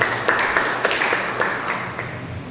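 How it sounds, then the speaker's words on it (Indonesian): A church congregation clapping in praise, a dense steady wash of applause with a few sharper claps standing out, filling the room. "Beri tepuk tangan bagi Tuhan Yesus Bapak Ibu."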